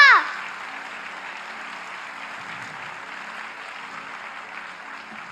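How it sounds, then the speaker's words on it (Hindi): Audience applause at a devotional talk in India, starting with a loud burst and settling into steady, moderate clapping from the crowd. "थोड़ी तालियां तो बजाइए, जोर से बजाइए"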